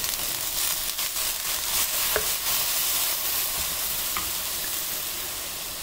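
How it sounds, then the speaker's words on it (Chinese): Minced beef stir-fries in a hot wok while the cook prepares braised aubergine, giving a loud, continuous sizzle with occasional scraping stirs throughout. "先把它炒一炒，水分炒掉一点"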